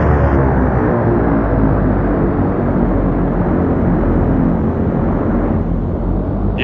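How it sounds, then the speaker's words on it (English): An aircraft rolls onto the runway during a landing at Grand Cayman in the X-Plane 11 flight simulator, flying a 690B: a loud, continuous broadband roar of engine and wheel noise filling the whole stretch. "like 2 seconds before the plane touches down, you can hear the wheels on the ground"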